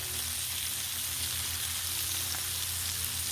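Bacon sizzles steadily on a Blackstone flat-top griddle set to moderate heat, giving a continuous close crackle and hiss with no talking over it.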